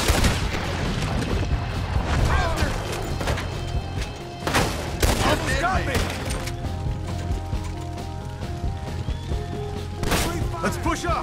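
Repeated gunshots and booming blasts in a chaotic shootout from Red Dead Redemption 2, dense bursts of fire over a continuous game score, with a voice talking briefly throughout.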